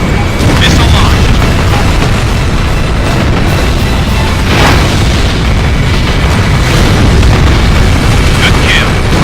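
Missile launch and blast in the Ace Combat Infinity flight game, with a jet's steady roar throughout and a few muffled booms spaced across the stretch, an explosion standing out near the middle, while a pilot's radio voice talks over it.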